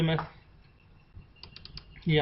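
Typing on a computer keyboard during an Adobe Premiere Pro editing session, a loose run of soft, close key taps between bursts of a voice at the start and end.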